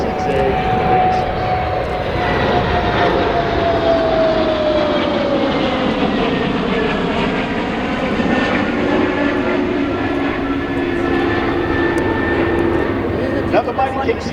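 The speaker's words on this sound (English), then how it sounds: "from the right, this is the KC46A" A Boeing KC-46A tanker jet passes overhead at the EAA AirVenture Oshkosh airshow, its loud sustained engine roar sweeping down in pitch as it goes by, with a public-address announcer talking over it.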